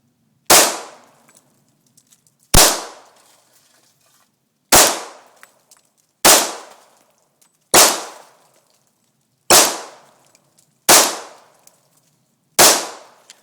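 Eight sharp gunshots from a Glock 27 pistol fired at a can outdoors near a creek, each a loud crack with a short decaying echo, spaced one to two seconds apart.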